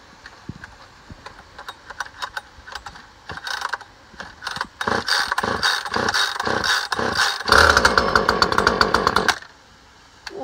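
A Husqvarna T540XP Mk2 chainsaw being pull-started: several quick recoil pulls and mechanical clicks, then the engine catches and fires into a loud, close two-stroke roar before cutting off.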